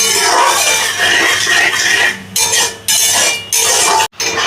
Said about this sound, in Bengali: এবারে আমি এইগুলোকে ভালো করে কষিয়ে নেব মশলাটাকে